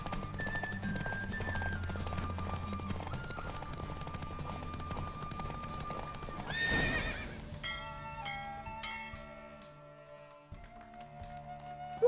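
A galloping horse during a race in The Witcher 3 video game, with steady hoofbeats and a brief whinny under game music and chimes, the tone shifting midway as the race ends.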